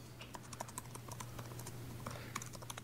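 A computer keyboard is being typed on as someone enters a Linux shell command: a steady run of close, crisp key clicks over a low constant hum, with no voices.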